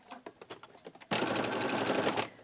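A sewing machine stitches a rucksack panel with a back stitch. A few soft taps come first, then a steady, close, loud run of rapid stitching for about a second before it stops.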